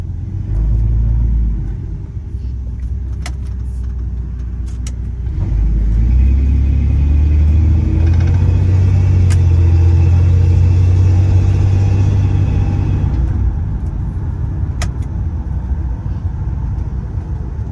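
A restored 1947 Chevrolet 3100 Thriftmaster pickup on an S10 chassis drives along, its steady low engine rumble swelling as it pulls away and holding through a long, even run, heard from inside the cab with no talking.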